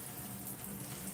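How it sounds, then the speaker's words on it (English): Water runs faintly and steadily while hair is being styled with water and a vanilla whip styler, a soft continuous wash of trickling sound with no speech over it. "I'm going to take a little water"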